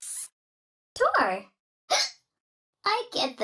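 Cartoonish game voice bursts of hiccups from the Endless Wordplay mobile game, several short separated yelps with silent gaps, some child-like in tone, a voice imitating hiccupping.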